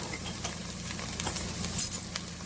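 Seasonings for homemade ketchup toasting in a pot, giving a soft steady sizzle with light stirring scrapes and faint utensil clinks close by, with no talking.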